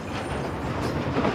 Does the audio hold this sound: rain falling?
no